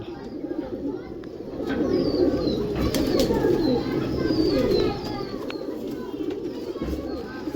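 Pigeons coo and burble close by while being handled, the cooing swelling louder in the middle then easing off, with a few wing flutters and brief talk mixed in.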